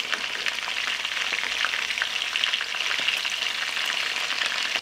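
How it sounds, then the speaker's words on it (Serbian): Meatballs fry steadily in a pan with a dense, continuous sizzle and crackle that stays close and even throughout, with no voices. "Ćuftice okrećemo na drugu stranu i nastavljamo da ih pržimo."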